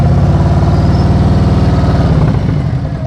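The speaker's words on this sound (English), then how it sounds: "Listen to my throttle." Motorcycle engine held at a low, steady throttle while riding slowly in the friction zone, a close, even chugging idle-like pulse that eases off slightly near the end.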